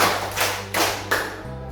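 Three sharp group claps in a classroom, evenly spaced bursts from many hands together, fairly close with a low hum underneath.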